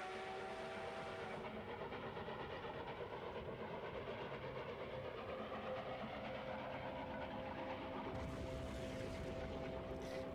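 A train from an anime episode rolls along with a continuous rumbling, clattering wheel noise and a faint tonal hum, steady and moderately loud for about ten seconds.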